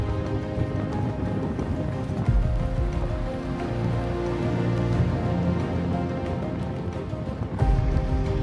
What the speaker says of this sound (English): the rain does bring something special to it